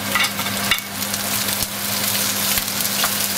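Garlic, onion rings and chili peppers fry in a pan, giving off a steady close sizzle with crackling pops and a faint low hum beneath, and no talking.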